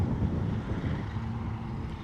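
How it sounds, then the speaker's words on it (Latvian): Outdoor wind pushes against the microphone in a dense, continuous low rumble, steady and fairly loud across the short stretch, with no speech. "Bišķiņ vējš šodien."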